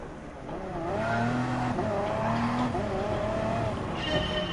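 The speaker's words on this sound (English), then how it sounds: "You can already tell the typical Audi diesel sound from the car" An Audi diesel race car engine in the Gran Turismo Sport video game drones on steadily with shifting pitch, loud and continuous with no talk over it.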